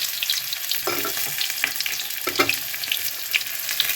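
Vegetable chops frying in hot oil in a pan give a steady, close sizzle with crackling pops and occasional stirring, with no voices.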